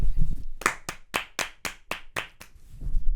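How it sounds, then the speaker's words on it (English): A small group claps in a short burst of about eight crisp, evenly spaced hand claps, close and loud, in a podcast studio. "Let's give him a round of applause then."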